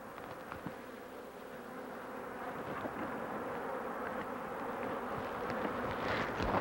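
Honey bees swarm around an opened hive colony whose frames are being lifted out, a dense, steady buzz of many wings that swells slightly louder toward the end, with no voices over it.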